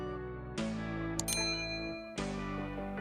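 Notification bell sound effect, two bright ringing dings about a second and a half apart, each with a clear metallic tone and shimmering decay, over a steady sustained musical backdrop.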